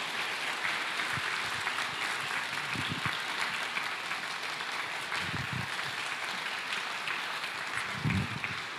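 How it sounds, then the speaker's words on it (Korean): A church audience gives steady, sustained applause to welcome a speaker, a dense clapping that fills the hall evenly for several seconds. "힘찬 박수로 환영해 주시기를 바랍니다."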